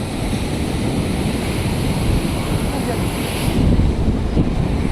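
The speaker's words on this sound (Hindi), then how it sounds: "समुद्र देखु लहरी केमी आसुची" Sea waves wash onto the beach at Jahania in a steady roar of surf mixed with wind, swelling a little louder near the end.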